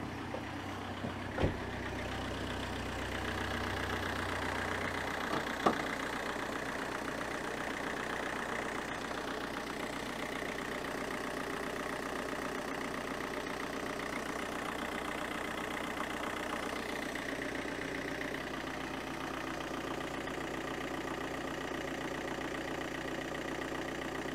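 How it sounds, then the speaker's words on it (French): A common-rail diesel engine idles steadily during an injector test, with a continuous low, even drone. A faint knock comes near the start and the level stays constant throughout, close up with no voices. "Je vais faire le démarrage. C'est parti pour 3 minutes au ralenti."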